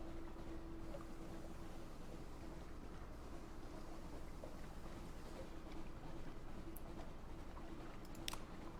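Ship sailing onward through a dark underground sea in the Sunless Sea video game: a steady, quiet low hum of engine and water ambience with a faint sustained drone, continuous and even throughout.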